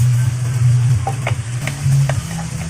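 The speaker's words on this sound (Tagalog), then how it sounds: "isunod na ilagay ang tuna. Sabay halu-haluin." Tuna being stirred into a pan that already holds ham, giving a steady low sizzle with a few soft scrapes and clicks from the utensil, close by and with no talking.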